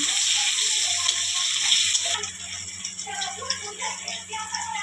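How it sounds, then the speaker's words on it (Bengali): Onions sizzle steadily in hot oil in a pan, a continuous close frying hiss that shifts slightly partway through as the onions settle. "পেঁয়াজটা দিয়ে দিলাম। পেঁয়াজটা একটু লাল লাল করে ভেজে নেব।"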